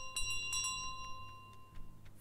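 A small bell in Untitled Goose Game rings out in a few bright, quick strikes with a lingering tone, set against steady low game ambience, fairly quiet.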